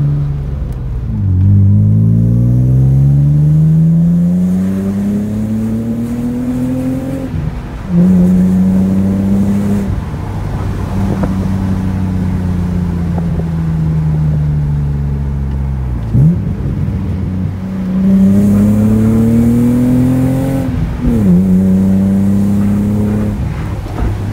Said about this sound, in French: De la E36, le son il est ravissant.